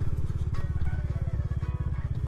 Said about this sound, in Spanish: Vamos a hacer la prueba de frenado de 70,